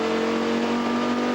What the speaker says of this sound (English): Here you're revving up till 1000 RPM, fifth gear.